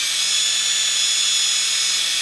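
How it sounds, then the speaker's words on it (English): A power drill bores a hole slowly and steadily, giving a continuous loud, high whine with no voices. "And then you're going to take your drill and you don't want to force it."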